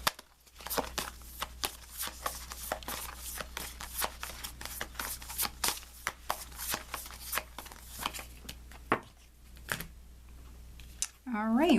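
Tarot cards shuffled and handled at close range, a busy run of soft slaps, flicks and riffles in irregular rhythm, with a brief voice near the end.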